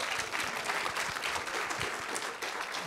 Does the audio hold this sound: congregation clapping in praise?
yes